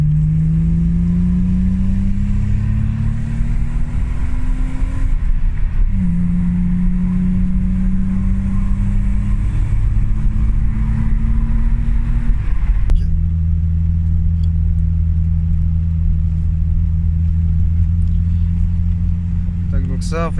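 BMW E30 with a programmable K-DATA engine management setup drones steadily while driving, the engine note rising through each gear and dropping at shifts, loud and close inside the cabin with talk underneath.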